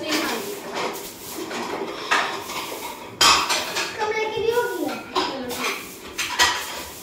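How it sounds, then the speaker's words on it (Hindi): Metal pots, pans and cutlery clatter and clink in a home kitchen as dishes are stacked back in place, in a run of sharp irregular knocks and rattles. "मैं बर्तनों को बर्तन की जगह पर लगाती हूँ"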